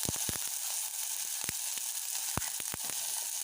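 Chopped onion, green peas, beans, carrot and cabbage sizzle in a hot pan while being stirred, a steady crackling fry punctuated by sharp scraping clicks of the spoon, close and alone without talk.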